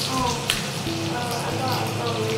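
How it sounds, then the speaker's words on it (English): Bacon frying in a pan for bacon cheeseburgers, a faint steady sizzle and crackle, with soft voices in the background. "Caleb is over here cooking a little bit of bacon"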